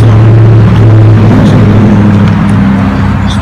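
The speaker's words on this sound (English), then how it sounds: "there's my little chainsaw." A small chainsaw roars steadily outdoors in front of a studio on a vineyard, shaping a wooden eagle carving, loud and continuous with a droning low hum throughout.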